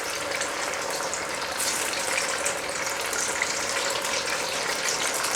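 Tofu pieces fry in 375°F oil, a dense steady sizzling hiss that stays loud and even throughout, with no voices.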